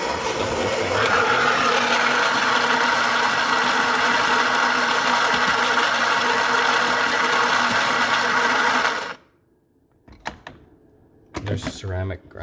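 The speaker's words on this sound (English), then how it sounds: "There's a ceramic grinder in there." Ceramic burr grinder inside a Philips LatteGo 5400 coffee machine grinds beans with a steady, loud whirring roar for about nine seconds, then stops abruptly, followed by a few brief clicks and mechanical knocks.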